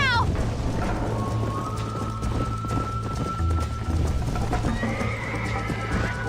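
A horse in the Red Dead Redemption video game neighs loudly and gallops with rapid hoofbeats, under background game music.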